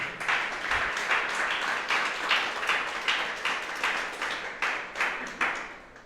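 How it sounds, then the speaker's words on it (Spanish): Rhythmic clapping from a church congregation during a worship service, a steady beat of fairly faint hand claps repeating about twice a second in a reverberant room. "Dele un aplauso al Señor"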